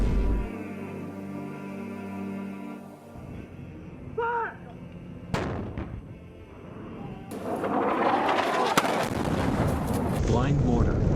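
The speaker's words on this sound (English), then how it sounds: "Blind mortar." A mortar round explodes in a rural village of clay houses in Ghazni, Afghanistan, heard as a sharp blast followed by a loud rumbling roar, with voices and a low drone around it.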